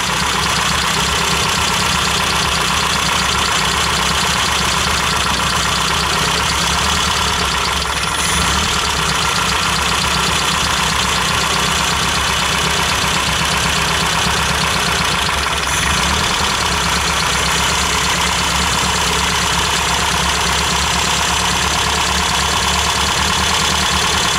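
A Peugeot engine runs steadily with a too-tight, wrong throttle cable holding the throttle open, giving a constant loud mechanical drone with a faint knock, alone without voices.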